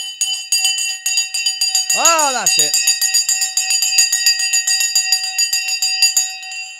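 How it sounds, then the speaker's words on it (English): A stock market opening bell rings continuously at a live trading broadcast, a steady loud metallic ringing throughout, with someone speaking briefly over it. "The bell has gone."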